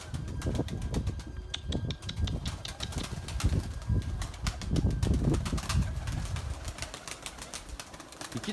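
Erzurum white breeding pigeons outdoors in strong wind give a steady run of soft flutters and wingbeats with occasional cooing, fairly close and continuous, with no voices.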